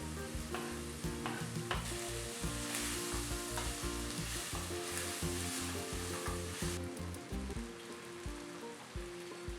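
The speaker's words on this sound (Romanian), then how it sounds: "În uleiul care a rămas în cratiță, călim ceapa, morcovul, dacă folosiți morcov și nu cartof, și bineînțeles și ardeiul gras îl călim tot aici." Onion, carrot and bell pepper sauté in oil in a pot with a steady, close sizzle. Repeated clinks and scrapes of stirring run throughout, and no one speaks.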